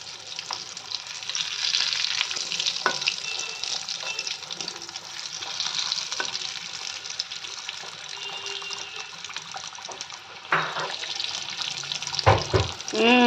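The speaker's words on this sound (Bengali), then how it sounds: "চলো ফটাফট সব কটা লুচি ভেজে নিই, কচুরি ভেজে নিই" Pea kachuri and luchi fry in hot oil in a kadai, a steady bubbling sizzle with scattered pops and a few louder clatters near the end; a faint voice is briefly audible.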